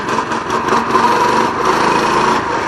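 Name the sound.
motorbike engine revving during a wheelie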